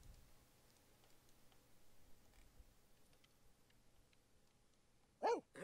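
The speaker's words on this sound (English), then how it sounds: "What's that noise? Oh, it's the dog." In The Sims 4, a pet dog lets out a single short, loud bark near the end after a quiet stretch of faint ticking game ambience.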